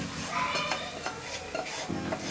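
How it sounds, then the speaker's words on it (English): Onions are mashed and stirred into mũkimo with a utensil against a pot, giving soft, irregular scraping and squishing strokes, close and fairly quiet, with no one talking. "I'm going to continue mashing it"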